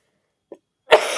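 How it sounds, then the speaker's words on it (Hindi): A lecturer with a bad cough during a geography class lets out one sharp, close cough after a faint short catch, the burst trailing off into a breathy tail. "खांसी बहुत ज़्यादा हो रही है"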